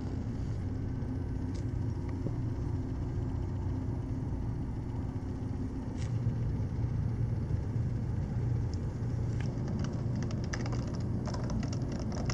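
Steady low rumble inside a moving car, broadband road and engine noise filling the whole stretch at an even level, with a few faint clicks and rattles near the end and no talking.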